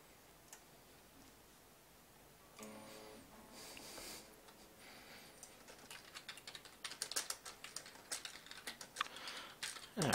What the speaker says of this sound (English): And a bit of typing.